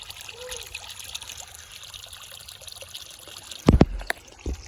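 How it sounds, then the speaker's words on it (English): Water trickles and dribbles steadily at low volume as it is let out of a heavy creek boat, followed near the end by a few louder splashes and thumps. "Letting some water out of our"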